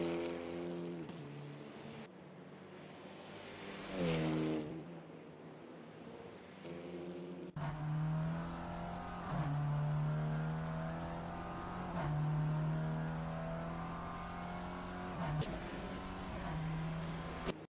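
A Volkswagen Polo race car from the Supa Polo Cup runs its out lap, engine droning and rising through repeated upshifts and revs, fairly distant and steady, with no voices.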